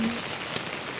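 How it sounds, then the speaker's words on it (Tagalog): Steady rain patters on the ground along a walk to an elementary school, an even wash of falling drops with no voices over it. "umuulan."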